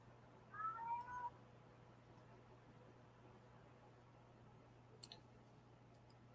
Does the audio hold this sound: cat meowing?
yes